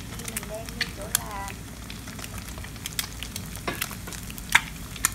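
Vietnamese bánh bột chiên frying in a pan, a steady crackling sizzle with sharp pops and spatters throughout, plus faint clinks of stirring.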